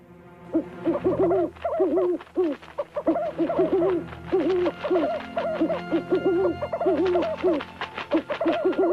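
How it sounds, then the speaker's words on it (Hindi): Owls hoot in an animated story, repeated wavering hoots in quick bursts layered over one another, with a dense rustle of flapping wings and a faint background score, loud and close for nearly nine seconds. "ये उल्लू ही मुखबिर हैं।"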